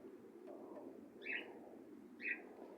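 A pigeon held in a hand coos softly, two brief low calls about a second apart, faint and close, against a quiet background.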